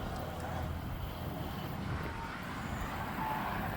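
Wind on a Gulf Coast beach at Galveston Island State Park rumbles and buffets steadily against the microphone, a continuous low roar with no voices.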